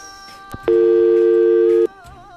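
A telephone busy signal on a live radio show line after a caller drops, one steady loud tone lasting about a second, with faint studio background before and after.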